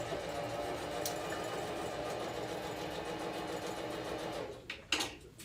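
A sewing machine runs steadily as it stitches a seam, a continuous close whirring motor hum, with a brief burst of louder clattering near the end.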